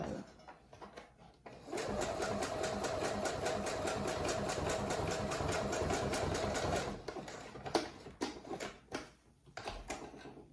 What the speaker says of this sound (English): Just pin it in place. And sew.